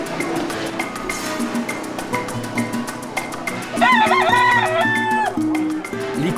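Fighting roosters crow and cluck at a Sunday cockfight fair in Mexico, with a long warbling crow rising over steady clucking and a busy crowd murmur.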